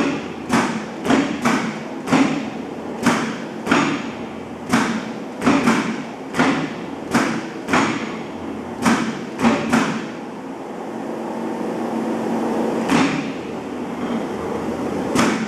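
A reconditioned 100-ton Niagara high-speed press jogs in inch mode, delivering a dozen or so sharp mechanical thumps at irregular intervals about half a second apart, loud and close, with a steady hum continuing after the strokes stop.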